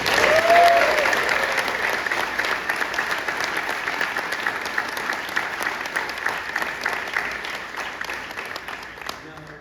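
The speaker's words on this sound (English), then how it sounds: "it deserves another round of applause" Audience applause at a hospital funding announcement with the governor, a dense wash of clapping that starts loud and slowly tapers over several seconds, with some voices mixed in.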